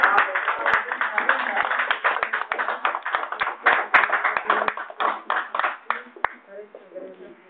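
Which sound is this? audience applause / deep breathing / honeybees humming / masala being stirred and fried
audience applause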